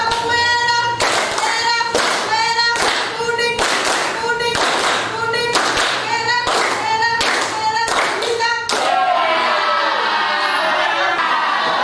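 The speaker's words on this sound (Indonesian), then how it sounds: "Kita tepuk tadi biar tetap fokus." A school class claps together in a rhythmic ice-breaking clap game, with about ten sharp group bursts that come in a steady patterned beat. Children's voices mix in, and a longer ragged spell of clapping and chatter follows at the end.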